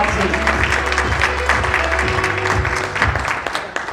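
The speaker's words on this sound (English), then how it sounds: "Please give a round of applause" An audience at an evening awards reception honouring women applauds steadily, a dense wash of clapping from many hands throughout.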